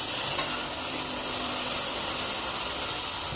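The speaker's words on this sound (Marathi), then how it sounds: "एक दोन छोटे कांदे आहेत ते आपण त्याचं फ्राय करून घेऊयात" Small onions fry in a hot pan with a steady, even sizzle and hiss that lasts throughout, close and fairly loud, with no voices.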